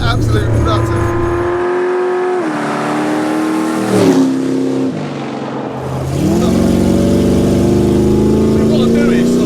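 A 9.8-litre, 800 bhp Chevy Nova drag car engine revs loud and close, its pitch climbing and falling through several surges, with voices talking over the roar.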